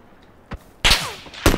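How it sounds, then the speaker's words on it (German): Gunfire from a PUBG squad match: a faint distant crack, then a loud close burst that rings out, and another sharp shot at the end, with no talk. "Auf mich wird geschossen."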